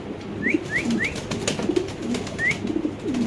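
Pigeons at a large pigeon farm coo steadily at close range, with soft repeated throaty calls and a few brief chirps from other birds.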